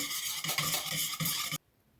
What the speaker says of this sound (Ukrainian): Трошки треба вінчиком перемішати.